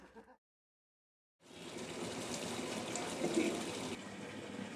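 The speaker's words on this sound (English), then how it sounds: "The sound of running tap water is the greatest music to the Tibetans' ears living in Sinjali." A shared water tap in a Tibetan exile settlement gushes steadily after a brief pause, its running water a close, even hiss that holds to the end.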